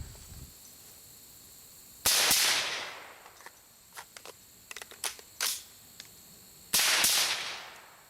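An AR-15 rifle is reloaded with a spare magazine carried in a FAB GL-MAG stock. Two loud, sharp bangs are separated by a series of crisp metallic clicks and clacks from handling the magazine, close by, with no talking.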